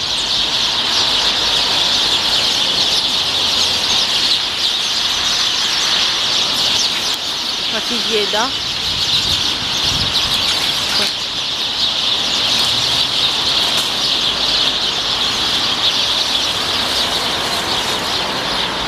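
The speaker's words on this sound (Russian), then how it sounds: "Сколько же там птиц, а, друзья?" A large flock of birds calls continuously in a Spanish town, a dense high chattering wall of sound with occasional wing flaps and squeals, while someone briefly speaks over it.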